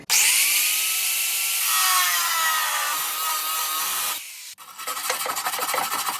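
Metal being cut with a power tool before welding, a loud close continuous grinding whine with a shifting pitch that cuts out abruptly, then rough rasping scraping.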